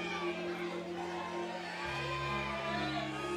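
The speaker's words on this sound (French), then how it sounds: "La foule qui crie son nom." Crowd at the Cannes Film Festival 2018 red carpet shouting and cheering for Gary Oldman, a dense, continuous roar of voices with whoops and yells, loud and sustained.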